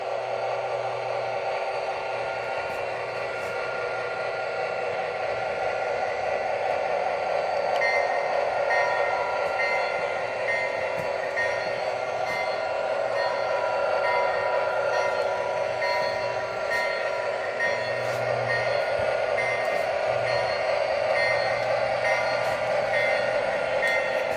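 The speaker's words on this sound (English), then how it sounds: "So we're going to reverse this train and park it back where it was originally." A model train hums and rattles steadily along its track while reversing, a continuous mechanical whir with faint clicks, running on with no voices.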